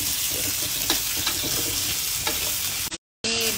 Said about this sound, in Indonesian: Okey, panaskan minyak. Kita masukkan bawang-bawang ni.